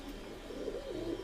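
Imported Oman Teddy pigeons cooing softly and continuously at close range, low rolling coos layered with faint bird chatter in the background.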